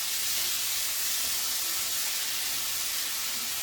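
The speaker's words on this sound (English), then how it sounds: "now we're going to put the tomatoes in and stir those up" Tomatoes go into a very hot pan for pasta aglio e olio. A dense, continuous hiss of steam and sizzle holds even and fairly loud, with no talking.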